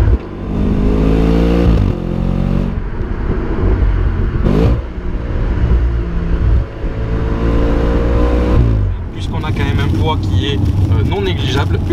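An Audi RS5 with a 450 hp V8 accelerates hard, its engine note rising through the gears with sharp shift breaks, loud and close from inside the car, ending in a burst of higher-pitched revving.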